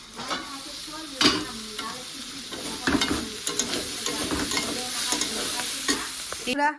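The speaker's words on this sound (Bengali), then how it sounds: "এত সুন্দর করে বড়াগুলো ভাজলাম তোমাদের সাথেও শেয়ার করলাম" Bora fritters frying in a pan: a continuous sizzle with occasional stirring scrapes and clinks of a utensil, close and steady throughout, with no talk.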